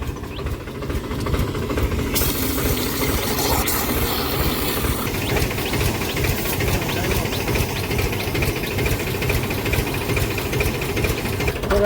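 A tractor engine runs for spraying pesticide on cotton and mung bean fields, a steady loud chugging drone with rapid pulsing throughout; people talk over it.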